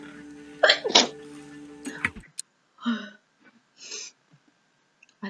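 Sims 3 characters sneezing in the video game, two quick bursts close together followed by several shorter snuffly sounds and sniffs, with pauses and quiet gaps between them.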